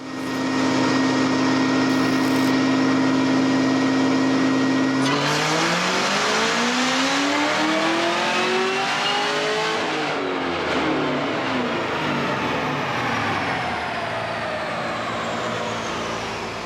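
A supercharged Chevrolet Camaro ZL1 with a ported blower idles loudly with steady supercharger whine, then revs hard, the pitch sweeping up and falling back before climbing again, close and continuous throughout a tuning session.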